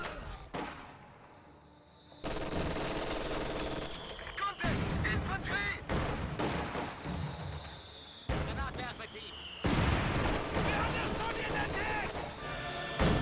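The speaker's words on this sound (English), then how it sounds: "mortar bombarding those conscripts, and they will also be forced to retreat" Mortar shells pound enemy conscripts in a competitive strategy-game match, with repeated sharp blasts and rumbling impacts layered over continuous battle noise that cuts in and out.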